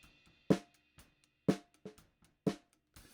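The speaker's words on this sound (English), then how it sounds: "This is the snare sound, dry." Dry snare drum hits on a real acoustic kit, close top mic, struck about four times at an uneven pace with lighter ghost strokes and faint hi-hat bleed between them, no effects.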